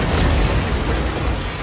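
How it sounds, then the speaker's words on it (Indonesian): Gunfire from a Black Widow film action scene, a loud sustained explosive roar of shots that stays dense and booming for the whole moment, with no talk over it. "mereka dikejutkan dengan sebuah tembakan"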